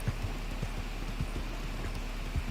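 A horse walking on a town street, its hooves clip-clopping in an even, unhurried rhythm at moderate distance over a low steady background hum.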